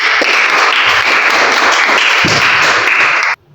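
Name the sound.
classroom applause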